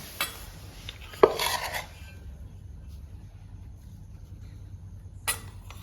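Metal spoon clinks against a container while special masala goes into an okra pickle, with one sharp clink and a few scraping stirs, then quiet before a final faint scrape.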